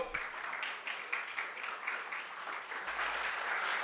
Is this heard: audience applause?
yes